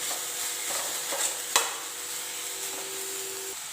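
Beans stirred in hot oil in a pan for a homestyle thoran, giving a steady soft sizzle with scraping spoon strokes and one sharper clink near the middle.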